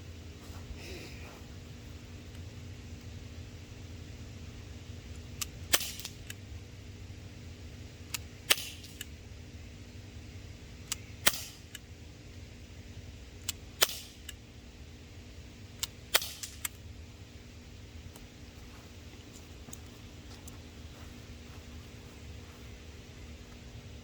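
A Crosman C41 air pistol fires about six sharp, evenly spaced shots through a velocity test, each a crisp pop a few seconds apart over a steady background hum.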